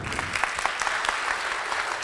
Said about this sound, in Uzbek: Mana bu qarsaklar bolajonlarimiz sizlar uchun.